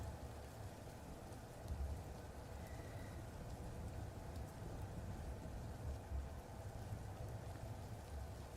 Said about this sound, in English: It's not music, it's rain